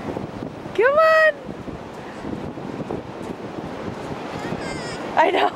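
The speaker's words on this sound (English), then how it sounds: "That wind's kicking up." Gusty wind rumbles and buffets the microphone on an open beach at Myrtle Beach, with surf in the background, voices, and a brief high squeal.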